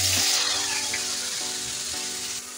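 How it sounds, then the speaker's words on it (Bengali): Spiced fish hits hot oil in a pan with a loud, steady sizzle and crackle that fades slightly over a few seconds. "তেল গরম হয়ে গেছে। মশলা মিশানো মাছগুলো দিয়ে দিব তেলের সাথে।"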